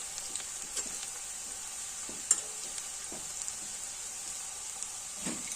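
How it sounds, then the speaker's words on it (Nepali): Finely chopped onion and cut green chilies fry in a pan, giving a steady close sizzle with scattered pops and occasional stirring scrapes. "प्याज एउटा मसिनो गरेर काटेको। मजाले फ्राई गर्नुपर्छ एकछिन।"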